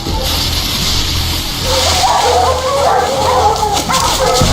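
Dogs barking, yipping and whimpering while fighting a bear outdoors, a loud, excited tussle of overlapping barks with engine noise underneath.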